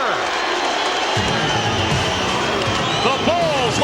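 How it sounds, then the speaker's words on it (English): Arena crowd at a Chicago Bulls versus Denver Nuggets NBA game roaring and cheering loudly and continuously, with whistles rising over the din and the sustained noise filling the space. "Listen to the crowd."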